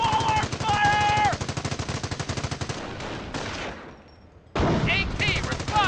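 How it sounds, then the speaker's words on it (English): Rapid automatic gunfire and rifle shots crackle in a Company of Heroes battle, a dense rattling burst followed by scattered shots and a brief lull, with game voices calling out over the fighting. "Taking squad under fire! Taking rifle fire! Taking small arms fire!"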